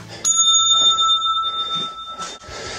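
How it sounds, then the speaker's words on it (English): A service bell in a police station lobby rings once, bright and sustained, its tone lingering and slowly decaying, with quiet room noise and faint movement around it. "Ring bell for service."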